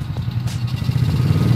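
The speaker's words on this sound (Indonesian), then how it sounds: "ketika idle gini, suara knalpot ini terbilang halus," A Honda Monkey mini bike idles, its exhaust giving a soft, low, steady burble close by with no talk.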